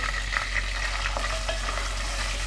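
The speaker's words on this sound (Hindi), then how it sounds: "प्याज भी हल्के फ्राई हो गए हैं" Sliced onions frying gently in a pan for bhindi keema, a steady close sizzle with occasional stirring scrapes and no voices.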